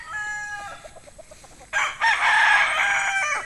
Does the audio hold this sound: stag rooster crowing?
yes